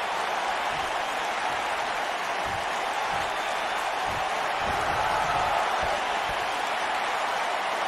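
A capacity crowd in the WWE 2K19 wrestling game roars in a loud, unbroken wash of cheering, with faint low thuds underneath and no clear voices.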